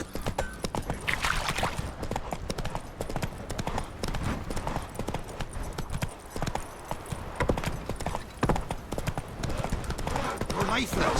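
Steady clip-clop of horse hooves from a ridden horse in The Witcher 3 game world, rhythmic and continuous, mixed with speech, ambient game sound and a possible whinny.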